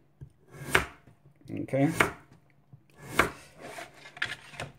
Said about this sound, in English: you're going to cut them about 3/8 of an inch to a half inch this way